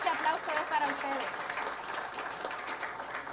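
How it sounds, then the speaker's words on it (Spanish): An audience at a forum on capitalism, migration and social struggles applauds itself at a speaker's invitation, with steady clapping throughout and a voice talking over it. "me gustaría que ustedes se dieran un aplauso"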